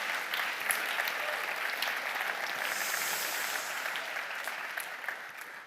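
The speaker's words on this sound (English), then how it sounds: "Big round of applause for Lunark." An audience applauds at an award ceremony: a steady, dense wash of many hands clapping fills the whole stretch at moderate loudness, then tapers slightly at the end.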